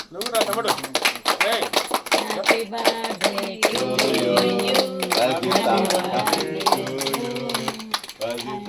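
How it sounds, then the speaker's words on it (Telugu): A group of people at a 39th birthday celebration for Rajitha clap together in a dense, sustained burst of applause, with voices and chatter mixed in throughout. "మనందరం కూడా ఒకసారి రజితకు శుభాకాంక్షలు చెబుతాము చప్పట్ల ద్వారా"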